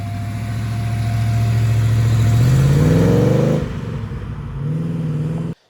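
A hand-built British Marcos Mantara V8 sports car engine idles, then revs up loudly with a rising throaty roar, drops back, and picks up again, close by with no talking.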